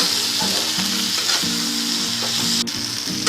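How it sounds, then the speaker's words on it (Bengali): Prawns and spring onions frying with spices in a pan, stirred steadily: a loud, continuous sizzle with rhythmic scraping strokes of the spoon, close and without talk. "এটা একটু ভালো করে নাড়াচাড়া করে নিই"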